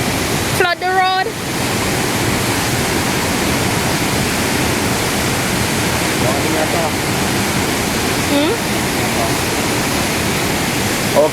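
Spring-fed river at its never-dry main source in Roaring River, Westmoreland, Jamaica, a loud constant rush of flowing water that fills the whole stretch, with a brief voice near the start.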